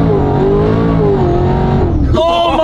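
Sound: car spinning out, engine revving

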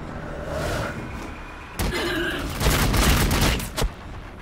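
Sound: gunfire in a video game

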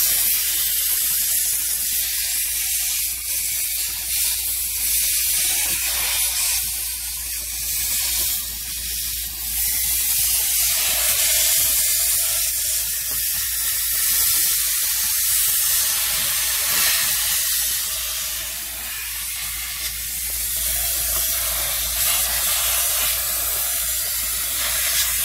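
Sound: pressure water spray gun cleaning car AC evaporator

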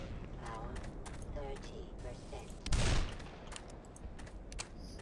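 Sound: gunfire in the Black Mesa video game

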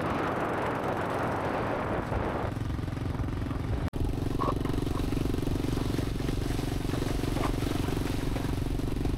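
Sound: motorbike riding on tidal beach

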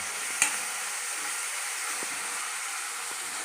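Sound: stirring cabbage fry in a pan

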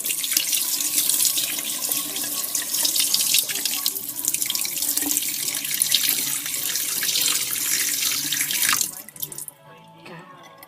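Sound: tap water running while washing pork in a sink

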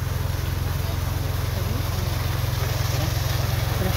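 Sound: water pump motor running

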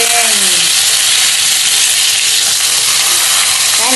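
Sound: fish frying in a pan

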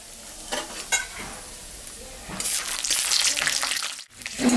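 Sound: peanuts frying in mustard oil in a wok

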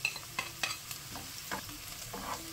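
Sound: frying garlic and pepper in olive oil

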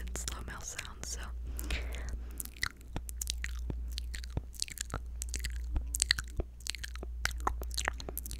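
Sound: fast ASMR mouth sounds

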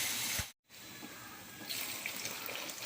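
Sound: pouring water into cooking pot

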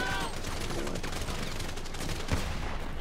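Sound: gunfire in video game Grand Theft Auto V

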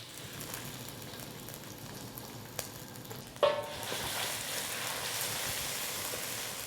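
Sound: Thai panang curry paste frying in hot oil

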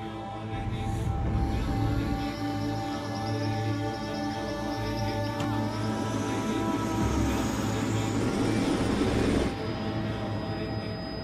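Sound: helicopter flying

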